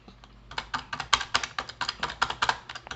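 Typing on a Perixx PERIDUO-714 wireless keyboard gives a quick, fairly even run of soft, close key clicks at a steady pace, about a dozen taps with no voices.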